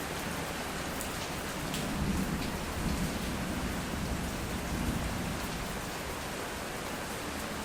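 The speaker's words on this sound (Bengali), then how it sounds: "প্রচুর বৃষ্টি প্রচুর প্রচুর" Heavy morning rain pours steadily onto surfaces, a dense continuous hiss with faint low rumbles swelling slightly now and then, no voices over it.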